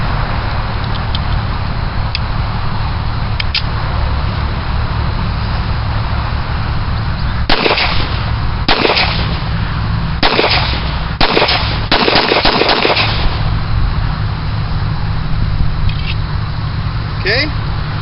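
A checkered stainless Wilson Combat 1911 pistol fires a magazine: a string of sharp, loud reports, first spaced a second or so apart, then in a quicker cluster, over steady outdoor background noise.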